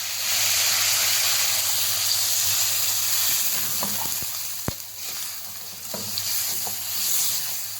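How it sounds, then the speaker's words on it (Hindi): Mutton frying in a karahi with chilli, black pepper and turmeric, a steady close sizzle and hiss running throughout, with a few sharp clinks and stirring knocks of a spoon against the pan. "10 से 12 मिनट हो गए हमें मटन को भूनते हुए"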